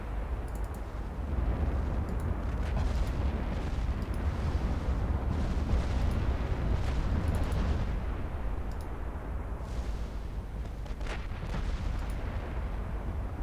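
Warship main guns firing in a naval video game: distant, muffled booming salvos over a steady low rumble, with scattered sharper cracks spread across the stretch.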